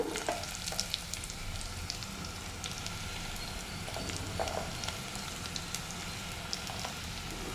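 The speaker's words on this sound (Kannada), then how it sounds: "ಈ ಥರ ಎಣ್ಣೆಯಲ್ಲಿ ಲೋ ಫ್ಲೇಮಲ್ಲಿ ಸ್ವಲ್ಪ ಫ್ರೈ ಮಾಡ್ಕೊಳ್ಳೋಣ" Lentils fry with onion and turmeric powder in oil over a low flame, producing a quiet, even sizzle like light rain. Occasional soft stirring sounds break through, and no one talks.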